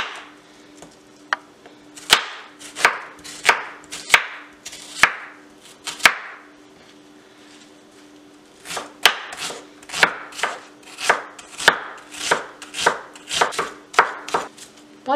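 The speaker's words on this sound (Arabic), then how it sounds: "هقطع البصل رفيع كده" A knife slicing an onion thinly on a board, a run of crisp, evenly paced chops that pauses for a couple of seconds and then resumes in another quick series, close and clear with no talking.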